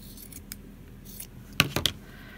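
Scissors snip through stretchy sweater knit fabric for a crazy quilt, a few sharp close cuts clustered together after a quiet stretch.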